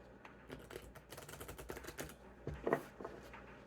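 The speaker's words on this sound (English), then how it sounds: "This deck is brand new, so it's a little trickier to shuffle." Quiet, close-up riffling and flicking of a brand-new deck of playing cards being shuffled, with soft irregular clicks and a brief denser burst near the end.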